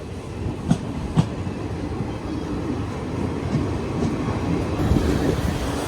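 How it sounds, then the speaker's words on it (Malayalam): Mangala Express hauled by a Gomoh-shed WAP electric locomotive passing by, a steady rail rumble with a couple of sharp clicks early on, building slightly louder toward the end, with no talk. "ഗോമോ ഷെഡിന്റെ WAPC നമ്മുടെ മംഗള എക്സ്പ്രസ് ആണ് ഈ പോകുന്നുണ്ടോ"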